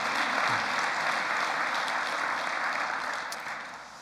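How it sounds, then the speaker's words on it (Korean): Church congregation applauding during a worship service, a broad, continuous wash of clapping from a full room that stays strong throughout and tapers slightly at the end. "우리 모두를 위해서 박수 한번 함께 치시면 고맙겠습니다"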